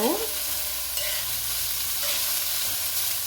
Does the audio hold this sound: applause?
no